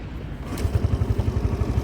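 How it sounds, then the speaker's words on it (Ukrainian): A Suzuki Address 125S scooter's kick starter is stomped once, then the small engine sputters into a rapid, steady putter close to the microphone. "Перевіримо кікстартер."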